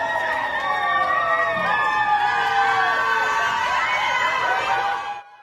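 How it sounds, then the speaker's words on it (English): Dozens of fans welcoming an athlete at an airport, excited high-pitched cheers and shouts, some sounding like children, sustained and close before cutting off abruptly. "dozens of fans showed up to welcome her at the airport, waving signs and cheering"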